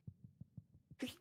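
A single short sneeze breaks out at the end, loud and close, after a run of soft rhythmic thumps at a tabletop game session.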